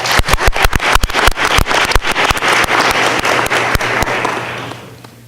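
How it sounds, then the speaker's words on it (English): A school board meeting audience applauds students with a burst of close, sharp, irregular hand claps that keeps up for about four seconds, then thins out and fades, with no talking over it. "So let's give them a round of applause."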